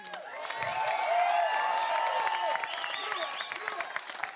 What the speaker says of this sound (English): Let's give a big round of applause to Pablo